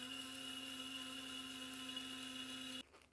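Thyme and oregano being ground in an electric grinder make a loud, steady whirring drone that cuts off abruptly near the end, leaving a brief rattle.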